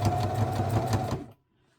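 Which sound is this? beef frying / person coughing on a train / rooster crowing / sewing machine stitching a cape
sewing machine stitching a cape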